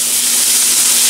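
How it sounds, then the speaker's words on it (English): Water thrown into a hot pan of browning mushrooms bursts into a loud, continuous steaming hiss that fills the whole short moment without any talk. "Now I'm just going to throw a little water in here."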